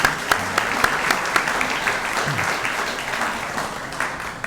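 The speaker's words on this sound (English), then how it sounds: "How about a nice round of applause for a la carte catering?" Audience applause for the catering staff at a civic association awards banquet, with sharp individual claps standing out from moderately loud, steady clapping.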